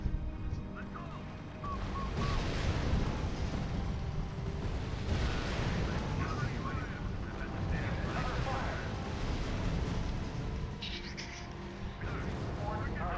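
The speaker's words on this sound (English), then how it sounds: "Aw, damn artillery." Artillery fire in the strategy video game Ruse: repeated heavy booms and rumbling blasts over a continuous battle din, with someone talking over the noise throughout.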